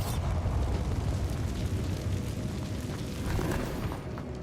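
A Bombarda spell explosion in Hogwarts Legacy, a dense rumbling blast that fills the whole stretch with a broad, roaring burst of noise, heavy and sustained with no speech over it.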